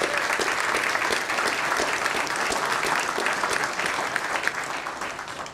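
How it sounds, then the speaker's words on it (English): Audience at an airport concourse ribbon-cutting ceremony applauding, a dense steady sheet of clapping from a sizable crowd that holds level and eases slightly at the end. "So if we could, just one more round of applause for everybody."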